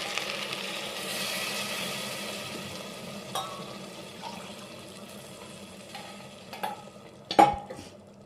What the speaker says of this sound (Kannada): ಇವಾಗ 1 ಲೋಟ ನೀರನ್ನ ಸೇರಿಸ್ಕೊತಾ ಇದ್ದೀನಿ.